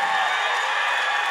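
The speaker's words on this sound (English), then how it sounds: "it looks like right now this crowd is cheering" A steady wash of crowd cheering and whooping fills a Vegas Shoot archery finals venue, loud and continuous throughout.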